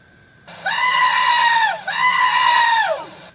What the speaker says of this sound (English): that whole little scream that y'all hear